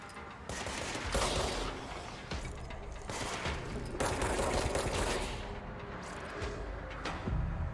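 Dense automatic gunfire in the video game Control rattles in rapid continuous bursts, loud and close, with brief pauses between volleys.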